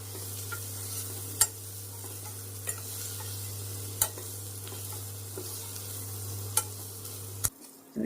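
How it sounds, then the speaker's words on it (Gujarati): Vada pav filling is sautéed in ghee in a pan with a soft, steady sizzle under a low constant hum, broken by a few sharp spoon clinks against the pan. The sounds are quiet and close, with no voices. "આમ ઘીમાં સાતળે એટલો મજા આવે ખાવાની"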